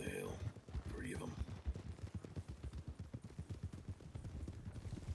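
Horse hooves clip-clop in a steady, rapid rhythm as riders move in a Western roleplay video game, the repeated hoofbeats sitting under ongoing talk.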